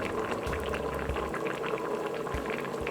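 A covered pot of chilli con lentil with red lentils simmers over low heat, giving steady soft bubbling and popping, fairly quiet and close, with no voices.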